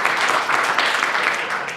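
Forum audience breaking into applause, a close, loud, continuous roar of many hands clapping that fades slightly at the end, with no voices over it.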